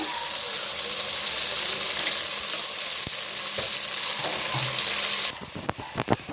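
Masala with turmeric frying for chicken biryani gives a steady, dense sizzle with a few knocks of a spoon against the pan, then the hiss drops away near the end as scattered clatter and stirring take over; no voices.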